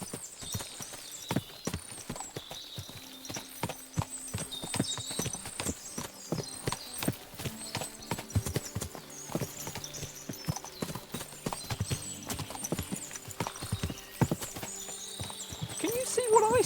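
Horses in the video game Kingdom Come: Deliverance II, steady clip-clop of many hooves with occasional neighs, moderately close against a soft background, with some voices.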